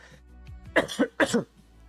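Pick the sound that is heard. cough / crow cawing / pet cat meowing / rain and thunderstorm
cough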